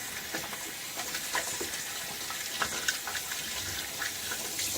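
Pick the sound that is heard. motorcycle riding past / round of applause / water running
water running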